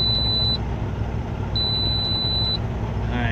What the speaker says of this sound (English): I'm so sorry about that beeping noise